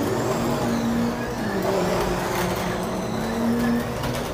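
Carrera digital 1/24 scale slot cars race around a track, their small electric motors giving a steady, continuous whine with shifting pitch as the cars pass, loud and close throughout with no voices.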